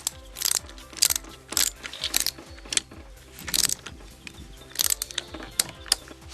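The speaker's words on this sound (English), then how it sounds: "Now I torque these up to around about 15-16 foot-pounds." A wrench clicks and ratchets as an engine nut is torqued to about 15-16 foot-pounds during an engine rebuild, quick repeated pawl clicks in short bursts, close and clear with no talk.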